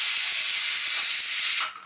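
A pressure cooker cooking moong dal sambar whistles, a loud, steady hissing blast of steam for about a second and a half before cutting off abruptly.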